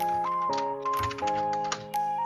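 Text typed on a computer keyboard in MS Word, a quick run of light, close clicks in an uneven rhythm over a steady tonal background.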